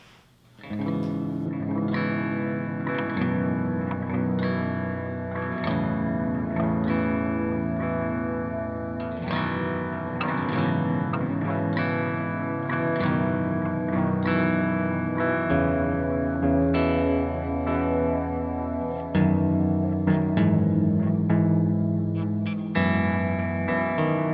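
A low, gritty Bass VI guitar plays a melodic line drenched in delay and reverb, with a touch of overdrive, sustained and washy throughout.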